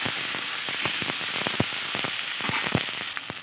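Potatoes fried earlier sizzle in a pan of spiced sauce as they are stirred, a steady close hiss with scattered crackles and pops throughout, no voices.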